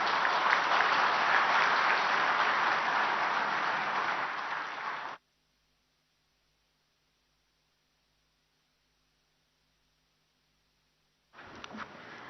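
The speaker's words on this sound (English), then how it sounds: "Can we have a huge round of applause for the Honorable Chief Minister, sir?" Applause from a conference audience at an opening ceremony, loud and steady for about five seconds, then cutting to silence before another burst of clapping starts near the end.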